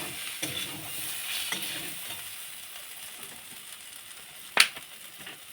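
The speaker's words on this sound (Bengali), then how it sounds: "সবগুলো ভালো করে একসাথে কষিয়ে নেব।" A mixture of fried mourala fish with green tomato being stirred and sautéed in a pan, a soft steady sizzle with light scraping strokes and one sharp clink near the end.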